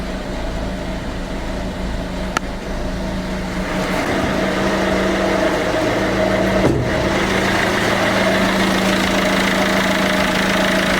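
A 1.6 HDI diesel car engine, just after EGR valve replacement, idles steadily with a low, even rumble and slight knocking, continuous throughout with no voices.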